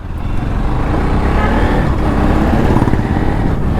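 An NS 200 motorcycle ridden after a clutch plate change, with carbon buildup and engine damage after 80,000 kilometres. The engine drones loud and steady up close, under constant wind and road rumble.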